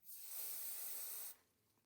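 Aerosol release agent sprays in one steady, close hiss for about a second and a quarter onto an epoxy resin mold, then cuts off abruptly into quiet.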